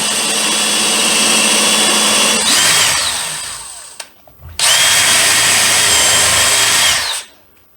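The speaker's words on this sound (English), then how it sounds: "I'm going to drill down in here through this spacer" A power drill whines loudly in two long bursts while drilling down through a spacer for a baseboard register, its pitch shifting as the bit bites, with a short pause between.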